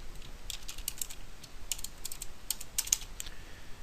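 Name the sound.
typing code on a computer keyboard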